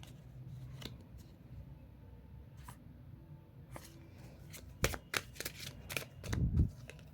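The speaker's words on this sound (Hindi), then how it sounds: "जिनको कार्ड शफलिंग देखना है वो देख सकते हैं।" A deck of tarot-style cards being shuffled for a reading, with soft repeated riffles and slaps that grow louder and sharper toward the end, close up in a quiet room.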